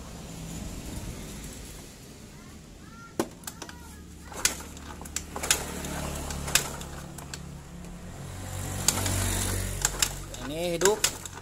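A carbureted Yamaha Fino/Mio motorcycle is kick-started and its engine idles with a low rumble, broken by sharp clicks and clunks. Voices talk over the engine.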